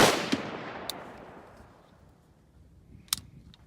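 Two sharp rifle shots from a Sig Sauer Virtus AR15, the first loud with a long fading echo outdoors, the second fainter a few seconds later, no talking.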